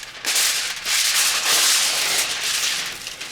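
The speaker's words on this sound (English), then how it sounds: "So I'm gonna cover it with aluminum foil for about 15 minutes." Aluminum foil is pulled and crinkled over cooked salmon in a home kitchen, making a loud, close, continuous rustling and crackling that lasts about three seconds.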